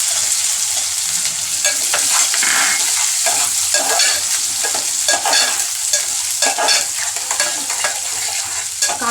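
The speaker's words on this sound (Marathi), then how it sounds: "त्यामध्ये आपण आता बारीक चिरलेला कांदा टाकून घेऊया" Finely chopped onion hits hot oil in a dal tadka pan, giving a loud, continuous close sizzle with stirring scrapes and bursts of crackle, no voices.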